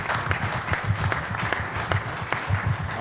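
A fraternity event audience bursts into steady applause, dense clapping from many hands filling the room at moderate loudness.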